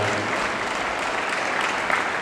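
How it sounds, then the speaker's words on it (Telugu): An audience at a church closing ceremony gives the three bishops a steady wash of applause. The dense, continuous clapping fills the hall evenly, and no voice rises above it. "వీరి ముగ్గురికి కూడా మనందరం గట్టిగా చప్పట్లతో కృతజ్ఞతలు తెలియజేద్దాం."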